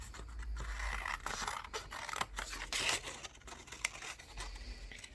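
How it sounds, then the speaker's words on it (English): Scissors cut through paper in a quiet run of repeated crisp snips and scratchy rustles, close up and alone with no voices. "And now we're gonna cut this out."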